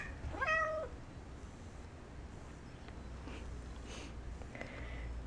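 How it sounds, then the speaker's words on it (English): A cat meows loudly several times near the start during a morning squabble between a cat and a dog, followed by quieter rustling and shuffling in an indoor kitchen. "Kitty doggy bickering in the morning."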